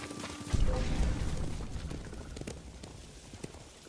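Horses galloping in Ghost of Tsushima, hooves pounding in a rapid rumble that starts with a thump and fades as they run off amid game ambience.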